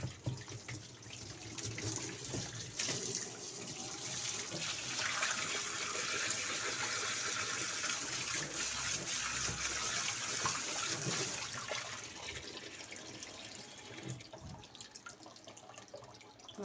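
Water rushes steadily into a Haier washing machine during cleaning, a continuous hissing splash that swells through the middle and tapers off near the end, with no voices.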